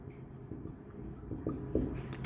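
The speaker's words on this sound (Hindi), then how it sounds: "तो हम इसमें लिखते हैं" Pen or marker writing notes on a classroom board during a chemistry lesson, with short scratchy strokes at a steady pace.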